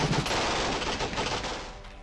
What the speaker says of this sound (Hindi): ताबड़तोड़ बरसती गोलियां,